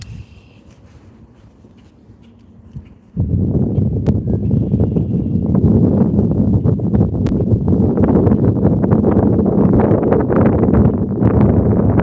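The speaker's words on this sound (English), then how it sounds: "It's windy, huh?" Strong wind buffets the microphone on a fishing boat with a loud, steady rumble. It starts suddenly after a few quieter seconds and keeps roaring for the rest.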